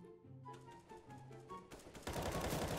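AK-47 and M4A4 rifles fire in CS:GO, rapid bursts of gunshots with tonal background game music and a louder, denser volley at the end.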